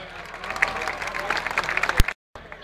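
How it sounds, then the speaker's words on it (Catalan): Audience applause at a human towers gathering during a neighbourhood festival in Valencia, a steady burst of many hands clapping that cuts off abruptly near the end. "Gràcies, benvinguts, un fort aplaudiment"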